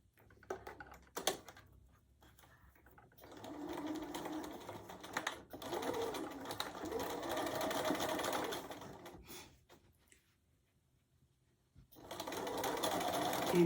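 A sewing machine stitches a casserole hot pad in several close runs of fast, even mechanical whirring and needle clatter, separated by short pauses and quiet handling.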